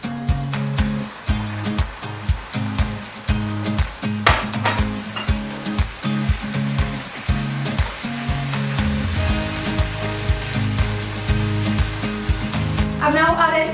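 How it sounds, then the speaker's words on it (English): White wine evaporating in cooking tomato paste in a pan for tomato sauce, giving a steady close sizzle with stirring, under rhythmic background music throughout. "Next I'm going to add a bit of white wine and let it evaporate completely."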